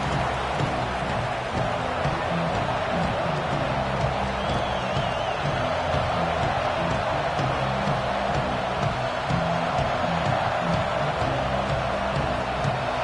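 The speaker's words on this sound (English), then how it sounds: "This crowd ready to make its presence known." A football stadium crowd at a Miami Hurricanes versus Notre Dame game roars as a steady, dense wall of distant cheering and noise, with a faint whistle-like whoop rising above it.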